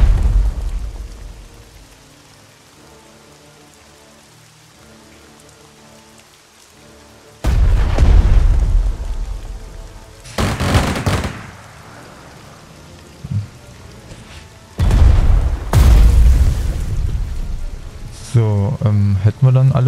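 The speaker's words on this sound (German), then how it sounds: "Artillerie." Artillery fire in the Strategic Mind strategy game, set at the 1943 Battle of Kursk: several heavy booming blasts arrive in separate bursts over a low rumbling backdrop, loud and close, with brief gaps between salvos.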